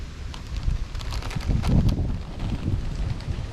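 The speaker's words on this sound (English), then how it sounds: "Hopefully the wind doesn't cause us too many issues." Gusty wind buffets the microphone at a truck campsite, a steady rumbling roar that swells in the middle, with faint rustling and tapping and no talking.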